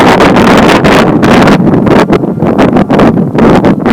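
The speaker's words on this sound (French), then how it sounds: "On a encore un peu des traces de petites rafales, bien sûr, un peu de vent" Wind after a snowy storm night, gusting in loud, roaring bursts against the microphone, steady and buffeting throughout with no voices.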